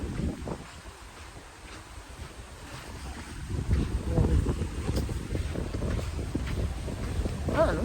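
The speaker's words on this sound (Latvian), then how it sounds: "Te būs neliels vējš" Light wind blows across the open sea at an Australian island beach in the morning, a continuous low rumble of breeze on the microphone with a soft wash of water beneath it, steady and fairly loud.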